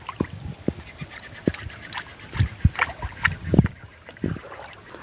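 A wooden rowboat is pushed and shifted on the water, giving scattered knocks and splashy thumps at irregular intervals, close and moderately loud over a noisy outdoor background.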